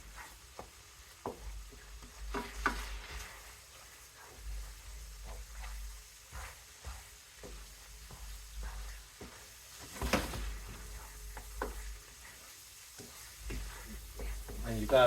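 Taco meat with seasoning sizzles and fries in a pan while being stirred, with intermittent scraping and clacking strokes over a quiet, steady sizzle, close and moderately faint.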